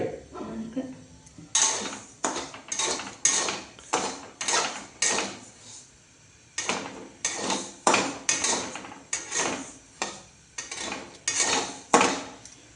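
Bhagar (barnyard millet) roasting in a pan, heard as a steady series of sharp, close scraping strokes of a ladle against the pan, repeated in rhythmic bursts with a brief pause midway.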